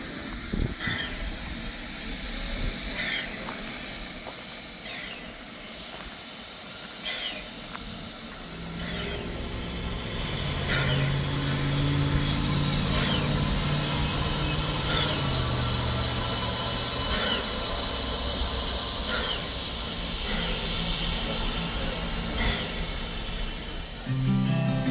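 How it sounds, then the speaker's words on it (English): Everett Railroad steam excursion train underway in the evening, with steady rolling rumble and hiss from the coach, repeated rhythmic clicks over the rails and a low tonal steam sound building midway, continuous and fairly loud. "Okay guys, going to take a little train ride this evening."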